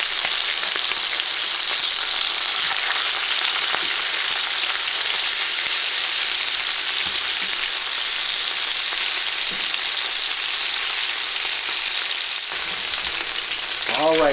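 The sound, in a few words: chicken frying in a pan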